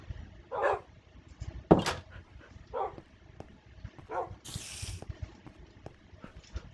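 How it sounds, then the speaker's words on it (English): Several dogs bark in the Lego Island video game, short separate woofs spaced across the clip with a bright burst partway through, over a low game background. "Yep, I have all the dogs back."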